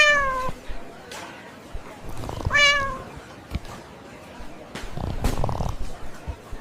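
An AI-generated cat eating a taco meows several times in drawn-out, tonal cries, fairly close and clear, with soft rustling and a snort-like sound between the calls.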